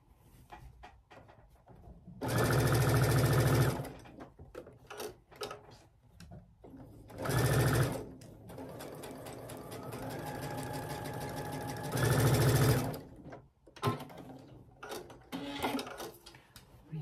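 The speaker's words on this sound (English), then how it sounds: "Now we'll stitch the rows, making sure all our seams all interlocked" Domestic sewing machine stitching rows of a Tilda fabric quilt, running in three loud sustained bursts with quieter whirring and clicking handling noises between them.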